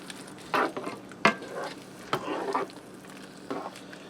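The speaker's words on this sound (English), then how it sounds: "I'm going to give that a stir, and as this heats, this will thicken up into a nice gravy" A spoon stirs a flour and beef stock mixture thickening into gravy in a skillet for beef stroganoff, giving soft scraping strokes over a low steady sizzle, close by and with no talking.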